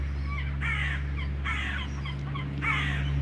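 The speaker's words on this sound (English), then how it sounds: "it's nice to see the birds fighting over bits of bread" Crows fighting over scattered bits of bread, giving several harsh caws in separate bursts over a steady low hum.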